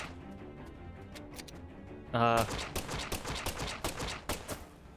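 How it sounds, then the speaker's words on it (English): Rapid gunfire at alligators in the video game Deadly Premonition 2, a loud burst followed by a string of repeated sharp shots over game sound, with someone talking throughout. "This takes more shots than I would like"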